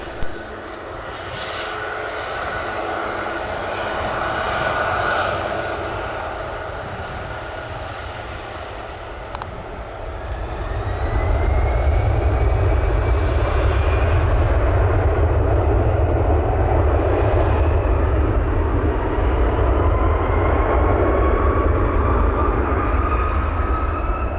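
A small plane takes off from Spirit of St Louis Airport. A steady engine drone builds, then the engine swells sharply to a loud, sustained full-power roar for the rest of the clip.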